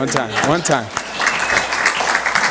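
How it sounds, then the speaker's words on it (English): A crowd of farm visitors applauds with scattered clapping that swells after a brief burst of speech at the start, continuing steadily to the end. "give us a round of applause right there"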